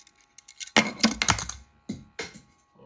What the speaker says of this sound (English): That's the sound of crashing your DB9